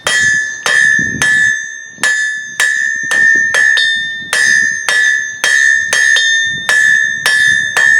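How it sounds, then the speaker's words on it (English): Repeated ringing hammer blows on hot metal over the round edge of an anvil, about a dozen sharp clangs in a fairly steady rhythm, each leaving a bright bell-like tone. "You can also use the round edge of your anvil to make your metal move a little faster."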